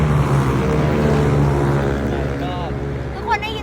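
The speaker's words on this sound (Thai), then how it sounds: "ตอนนี้เสียงรถดังมาก" A loud, steady rumble of a car engine and road noise fills the clip, with a voice briefly speaking near the end.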